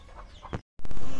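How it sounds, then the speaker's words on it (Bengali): Desi chickens wander around a house, giving several close, loud clucks, broken by a brief silent gap, then resuming as steady clucking. "দেশি মুরগি বাড়ি ঘুরে"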